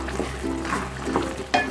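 Tomato pickle with chili powder simmering and being stirred in a pan, a steady soft sizzle with intermittent scraping stirs, close and moderately loud, no talking.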